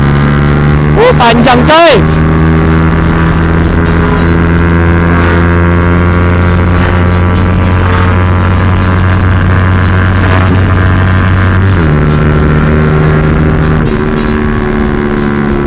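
A Yamaha Byson motorcycle fitted with a BRT dual-band CDI pulls hard in third gear, its engine droning loud and close with a strong steady harmonic tone and a sharp rev burst early on, while someone speaks briefly.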